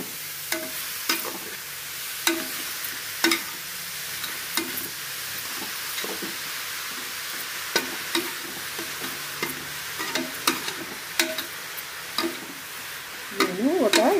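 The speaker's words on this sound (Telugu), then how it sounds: "బాగా అడుగు కింద నుంచి కలయ పెడతాము." A spoon scrapes and stirs carrot halwa in a pan, giving irregular knocks and scrapes over a soft, steady frying hiss.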